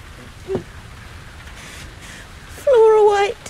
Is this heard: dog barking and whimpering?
no